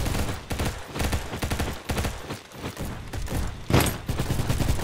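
Rapid gunfire from the Roblox shooter Bad Business, loud, dense bursts of shots firing back to back with barely a pause, ending in a sharper, heavier blast near the end.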